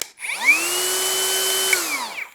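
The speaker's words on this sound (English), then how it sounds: "I would highly recommend this full-size cordless router" A full-size cordless router with an electric brake spins up to a high, steady whine, holds it for nearly two seconds, then winds down quickly as the brake stops the bit.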